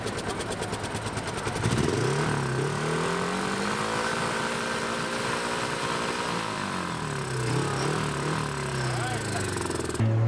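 A small RC-converted motorbike engine revs up sharply, its pitch climbing and holding high before dropping and rising again, loud and close, with voices nearby.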